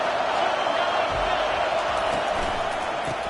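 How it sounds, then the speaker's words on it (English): A loud, dense stadium crowd roaring continuously in an NCAA 25 college football game, a steady wall of cheering with no clear breaks. "This crowd bringing an ear-splitting welcome to their visitors"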